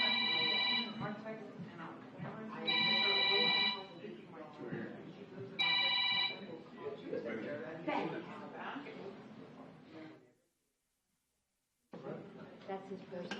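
At a city council meeting, a personal mobile phone rings in three separate bursts of trilling electronic tone, heard under ongoing conversation and light chatter in the chamber before a brief silence.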